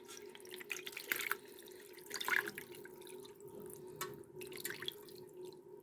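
Water poured from a tap into a container while preparing a spiced brine for salting herring at home, a quiet steady trickle with scattered drips and splashes.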